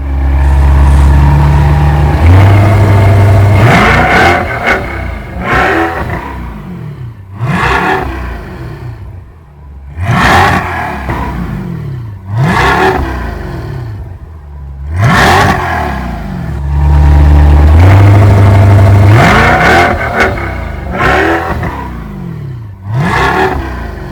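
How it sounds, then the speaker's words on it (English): A C8 Corvette with carbon fiber exhaust tips revs hard again and again, loud and close, each blip rising into a roaring peak then falling back to a rumbling idle, with two longer sustained pulls among the bursts. "We're getting ready to rev the engine up so you can hear how it sounds."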